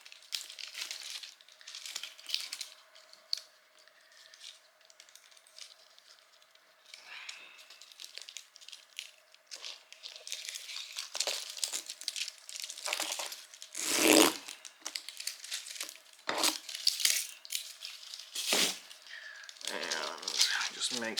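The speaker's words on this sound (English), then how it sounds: "Sorry for the wrapper noise." Plastic wrapper crinkling near the microphone while battery wires are taped, with irregular crackly rustles and bursts of handling noise under ongoing talk.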